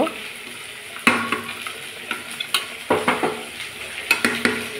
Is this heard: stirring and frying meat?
yes